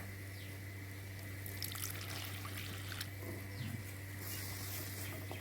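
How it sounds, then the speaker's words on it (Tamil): Water is poured into a pan of brinjal thokku (eggplant relish) in a home kitchen, a faint, soft splashing trickle heard over a steady low electrical hum. "தண்ணி கொஞ்சம் சேர்த்திக்கலாங்க"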